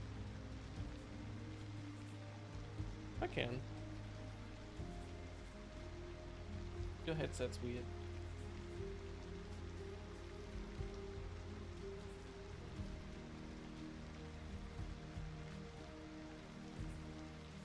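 Steady soft rain patters in a city building game, a low, constant hiss with a couple of brief sharp clicks, while a person speaks a few words quietly over it.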